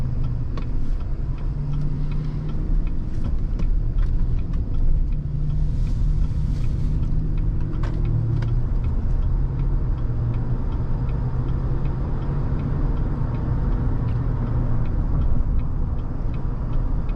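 A 2020 GMC Sierra 1500 SLT pickup truck with an 8-speed automatic is being driven, giving a steady, loud low engine and road rumble that holds from start to finish with no talking.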